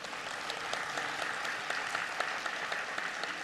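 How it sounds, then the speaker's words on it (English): Applause from a summit audience, a continuous patter of many hands clapping at moderate loudness. The individual claps stay crisp throughout the few seconds. "Can we have a round of applause for that?"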